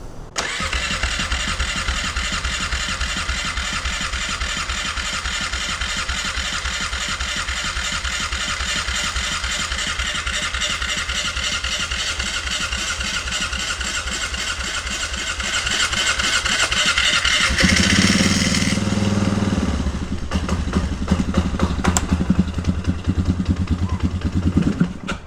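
A 1997 Polaris Sportsman 500 ATV with a running problem, started cold on choke, cranks with a long, steady rhythmic starter whir before the engine catches and settles into a rough, loud idle up close, with no talk.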